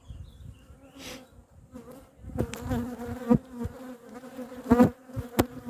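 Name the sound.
honeybees buzzing at apiary hive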